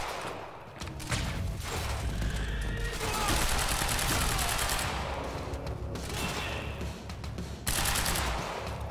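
Gunfire in the video game Quantum Break, rapid bursts of shots running almost continuously through the stretch, dense and fairly loud, with a sharp renewed burst near the end.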